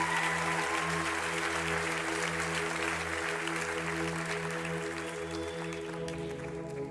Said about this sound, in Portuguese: Dá uma salva de palmas pela vida da Ana Laura.